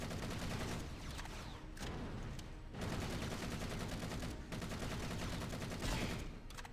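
An assault rifle from a modded Halo singleplayer campaign fires repeated loud automatic bursts, broken by a few brief pauses, with no voices.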